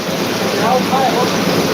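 Heavy downpour in Jamkandorna, a dense, steady wash of rain noise with a low rumbling undertone, heard briefly and without interruption.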